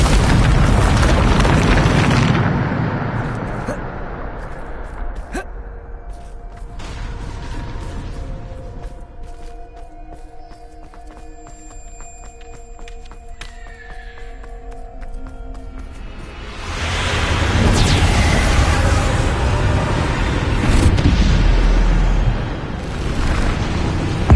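Bombarda explosion spells from a Hogwarts video game erupt in loud booms at the start and again after a quieter stretch with tonal game effects, the blasts rumbling and long-lasting.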